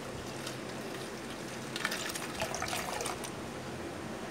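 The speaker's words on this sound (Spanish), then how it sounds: "así que vamos a tirar un poquito más de agua" Water is poured and trickles over paint-coated rolled newspaper sticks for basketry, making a soft steady splashing and dribbling that swells briefly midway, close and moderately quiet with no talking.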